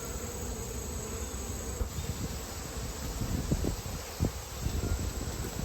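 Honeybees buzz steadily around an open hive during an inspection of a brood frame, a dense continuous hum close by with occasional louder passes of individual bees.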